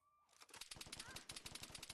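An M249 machine gun in a video game fires rapid bursts of sharp, punchy shots, close and loud, with a brief pause midway before the stream resumes.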